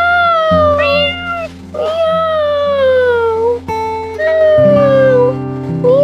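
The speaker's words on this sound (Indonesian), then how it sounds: "Kedengarannya seperti kucing." A cartoon cat meows repeatedly in the Toca Life World video game. The high, drawn-out meows sound close and loud over steady background game music.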